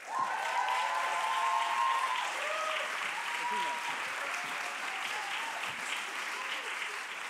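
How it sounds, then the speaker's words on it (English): Audience applause greets a guest at an Amsterdam art week event with Amsterdam Museum, a dense sustained clapping from a large crowd that slowly tapers, with a voice speaking over it at the start. "Big applause for Martina Halsema."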